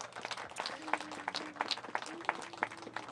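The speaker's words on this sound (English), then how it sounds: "So give yourselves a round of applause." An audience at a mayoral celebration of a minimum wage increase in Washington, D.C. claps in a brief, moderately loud round of applause, with some voices mixed in.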